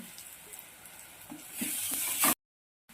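Crushed ginger, garlic and green chilli fry in a pan with a hissing sizzle that grows louder for about two seconds before cutting off abruptly to silence.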